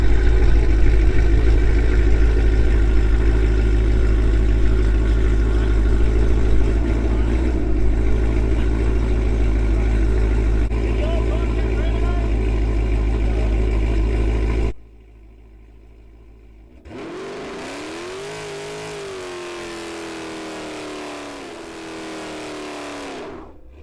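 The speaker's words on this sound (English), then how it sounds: "So we got a surprise vehicle entering the burn box, so we're gonna give him at the Burnout." A car engine at a burnout box runs loud and steady with a deep rumbling idle for about fifteen seconds, cuts out abruptly, then rises again in rising and falling revs. No voices.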